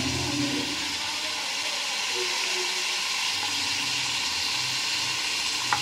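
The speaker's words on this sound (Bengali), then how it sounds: "লাল লাল করে ভেজে নিতে হবে।" Stuffed pointed gourd for potol dorma being fried in hot oil makes a steady, dense sizzling hiss that carries on without a break, close and fairly loud, with faint talk underneath.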